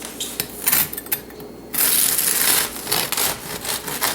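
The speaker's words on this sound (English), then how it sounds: "I'm using this serrated Messermeister German knife" Serrated Messermeister German knife sawing through a crusty sourdough loaf, a run of crackly, scratchy crunches with brief pauses, close and fairly loud, with no talking.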